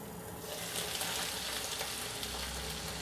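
Beef sizzles and fries steadily in a hot pan with mushroom gravy, a dense, continuous crackle with no voices, growing slightly more active partway through.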